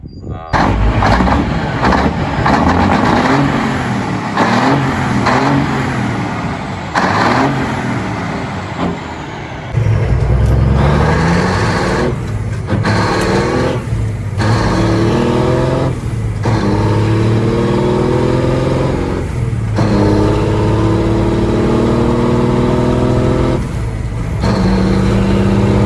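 A 1981 Kenworth A-model truck fitted with a 400 Cummins engine runs steadily with a deep, loud idle rumble and occasional revving, while someone talks over it.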